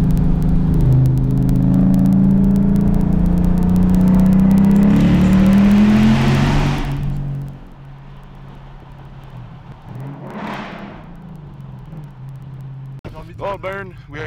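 A Mitsubishi Evo X engine holds a loud sustained rev during a burnout with harmonic engine drone, then drops off sharply; quieter whooshes and a brief rasp follow, with people talking.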